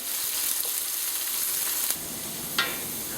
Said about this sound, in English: spend a couple minutes here just sauteing our onions